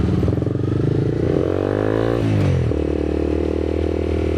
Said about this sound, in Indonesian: Ini 250 cc 1 silinder means dia punya lebih sedikit moving parts dibandingkan yang 2 silinder